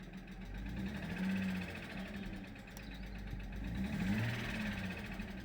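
An Audi 80 Coupe engine, unused for 15 years, runs with a steady mid-pitched drone that swells gently twice as it is revved, sounding rough and unhappy, close and continuous with no voices.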